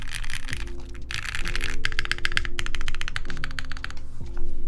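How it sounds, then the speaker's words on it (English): Rapid typing on a taped mechanical keyboard, keys clacking in quick uneven bursts with a muted, deep thock, close and with no talking. "Does my keyboard sound meta now?"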